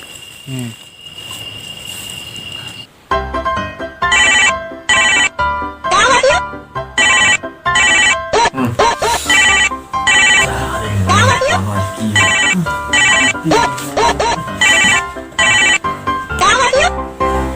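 A telephone rings repeatedly and loudly in a household setting, sharp electronic bursts in a steady on-off pattern after a quieter opening, with voices talking in between.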